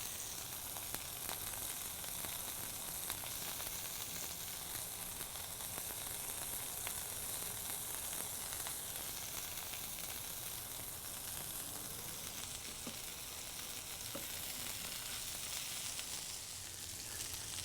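Burger patty frying in a pan, a steady, quiet hiss of sizzling fat that runs unbroken throughout, with occasional faint pops and no voices.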